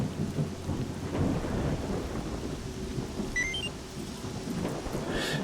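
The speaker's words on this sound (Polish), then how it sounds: "Ale pada deszcz." Rainstorm in the S.T.R.E.F.A. video game: steady hiss of rain falling with low rumbling thunder beneath, a continuous wash of weather sound heard alone without voices.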